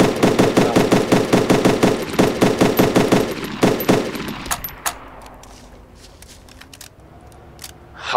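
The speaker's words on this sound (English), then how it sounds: "I was having a firefight with someone" Rapid automatic gunfire from a firefight in the video game DayZ, loud and close in steady bursts for several seconds, then fading to scattered isolated shots and faint ambience.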